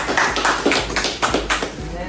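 An audience at a pharmacy student presentation claps for a student, a loud, close burst of scattered, rhythmic hand claps with voices mixed in.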